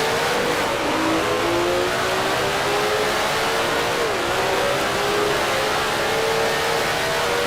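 Honda race car engine in the Grand Prix Legends racing game, revving loudly and continuously near the end of a Grand Prix, the pitch rising and dropping through gear changes with no one talking.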